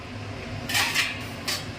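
A metal lid is set onto a cooking pot on the stove, giving two bright clanks about a second apart against low kitchen hum.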